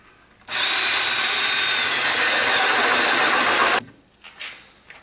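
A power drill fitted with a 1.5 inch bit bores through pallet wood braced on a 2x4 bridge, a loud steady whine that cuts off abruptly, followed by a few faint handling knocks.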